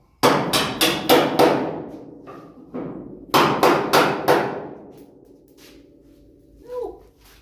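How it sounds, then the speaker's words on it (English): A brass hammer strikes a rear suspension part on a 1966 Ford Mustang fastback in two sharp bursts of four to five ringing blows each. The hits are loud and close, with a softer knock between the bursts and a faint shuffle at the end. "Use a brass hammer so we don't mess nothing up."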